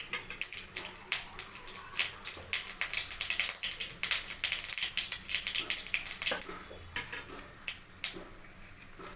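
Black mustard seeds splutter and pop in hot oil for a pickle tempering, a dense run of sharp crackling bursts close by, steady throughout without talk.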